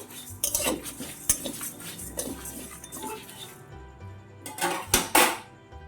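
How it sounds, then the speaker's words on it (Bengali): A spoon stirs dry pickle spices in a hot pan over low heat, with repeated clinks and metallic scrapes against the pan, a quiet pause midway, then a final burst of louder scraping. "কড়াই যেহেতু গরম আছে, লো আঁচেই আমি এইভাবে নাড়তে থাকবো।"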